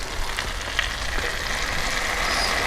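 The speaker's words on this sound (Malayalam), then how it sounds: "ഇതിൽ സോയാ സോസ് ഒഴിക്കുക." Soy sauce is poured into a hot pan of fried chicken wings being cooked restaurant style, giving a steady, close sizzle and crackle of frying that holds throughout without any talking.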